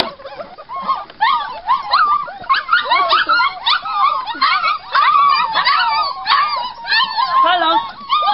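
Young puppies at a kennel whimper, yip and howl almost without pause in a loud, close chorus of high rising and falling cries.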